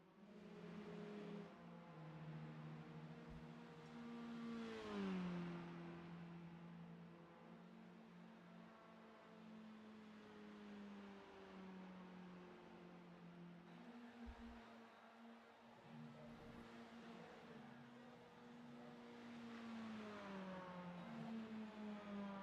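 Race car engines in the iRacing sim during a Powderpuff series race in Texas, a sustained engine drone with pitch rising and falling as cars accelerate and shift, several cars overlapping, fairly quiet and steady throughout.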